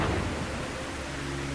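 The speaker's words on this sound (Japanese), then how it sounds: "ちょっと落ち着かないタイプの雨の音ですよねこれ。" Rain falls with thunder in the Shining Force EXA video game, a dense, steady hiss with a low rumbling bed beneath it and no distinct crack. It sounds alone, with no voices.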